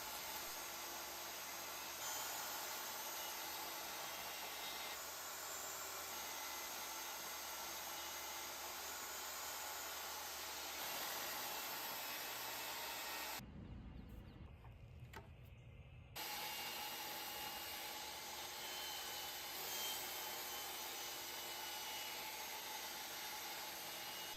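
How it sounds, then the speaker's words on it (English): A table saw cuts wood pieces for a drawer box, a steady loud whirring drone running throughout with a short drop in the middle where the blade winds down briefly, then the cut resumes. "then I'll move on to my table saw to make the smaller cuts"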